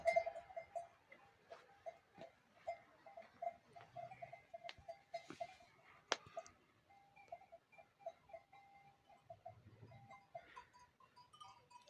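A goat in a herd on pasture gives birth. Faint, drawn-out bleats sound at a distance over about twelve seconds, with scattered soft ticks and knocks but little talk.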